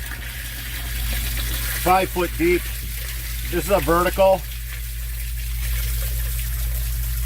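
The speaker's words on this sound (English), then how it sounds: "And still, there's just so much water running here." Water runs steadily into a 24-inch-diameter, five-foot-deep vertical outdoor yard sump basin during a thaw, a constant close trickling and rushing that continues under a man's speech.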